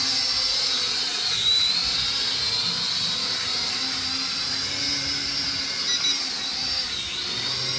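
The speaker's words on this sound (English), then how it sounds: "Up once to start the motors" A steady high-pitched whine of a small drone's propeller motors spinning up, close and continuous with slight pitch wavers.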